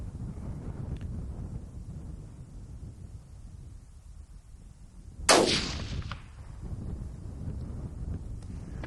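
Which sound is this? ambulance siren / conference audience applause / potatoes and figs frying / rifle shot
rifle shot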